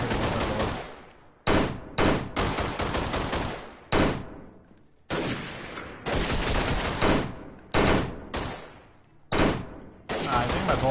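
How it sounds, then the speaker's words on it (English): Video game gunfire in Freeman Guerrilla Warfare, with bullets striking a fence. Loud, dense automatic bursts each cut off sharply, with short silent gaps between them, repeated about a dozen times. "I think my bullets are hitting the fence and dissolving."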